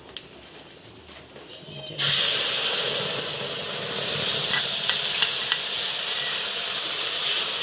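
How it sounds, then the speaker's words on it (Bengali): Spice paste hits hot oil left from frying fish with kalo jeera, bursting into a loud, sustained hiss and sizzle after a quieter moment, with faint clicks of stirring throughout. "এবার মশলার পেস্টটাও দিয়ে দিলাম"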